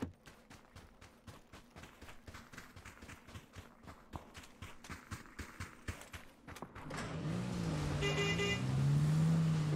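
A car engine in PUBG starts up and settles into a steady, rising hum after a run of rhythmic footsteps, heard fairly faint with no talking over it.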